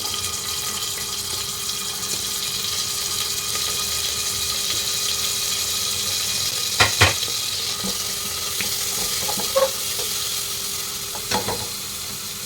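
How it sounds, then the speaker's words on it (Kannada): Onion fries in a pan with spices and a bay leaf, giving a steady close sizzle with a few sharp stirring clacks against the pan during home lunch cooking. "ಈರುಳ್ಳಿ ಚೆನ್ನಾಗಿ ಫ್ರೈ ಆಗಬೇಕು"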